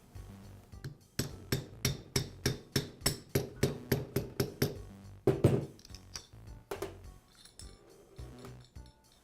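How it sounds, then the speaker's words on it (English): A socket taps a bearing onto the armature shaft of a DeWALT grinder, about fifteen evenly spaced sharp metallic knocks in a steady rhythm, followed by a few scattered clinks of parts. "Then I'll place the bearing onto the armature shaft and use a socket to tap"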